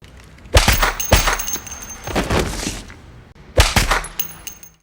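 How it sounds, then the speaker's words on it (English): Gunfire in a spy thriller film scene about the Treadstone program: several loud, sharp bangs with ringing tails, with the last shot coming after a short pause. "There is 1 gunshot."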